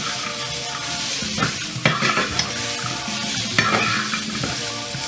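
Fried plantain stirred into cooked vegetables in a frying pan, a steady close sizzle broken by several sharp scraping and clattering stirs, with no talking.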